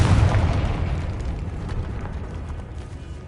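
A Confringo fire spell explodes in Hogwarts Legacy, a loud, deep, rumbling blast that hits at once and then slowly fades into a long, noisy roar over about three seconds.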